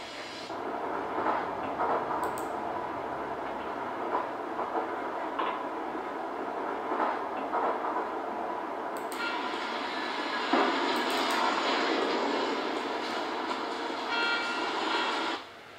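A metro train riding through a tunnel in the video game The Longest Journey, a steady close rumble with rattling and a rising rush of noise toward the end before it cuts off.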